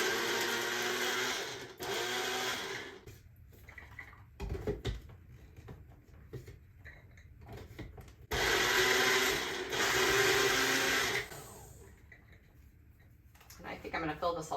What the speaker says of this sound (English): you can see in there that it is grinding it up